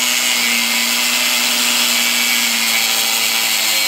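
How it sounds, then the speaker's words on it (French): A steady, loud, high whine of an angle grinder cutting through threaded rod, running continuously and alone without any pauses. "couper à la disqueuse ma tige filetée"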